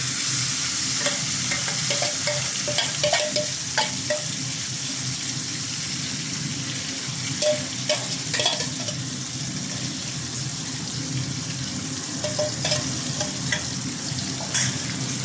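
Spiced hilsa fish pieces fry in a pan with a constant close sizzle, while occasional scraping clinks mark the pieces being turned over and stirred.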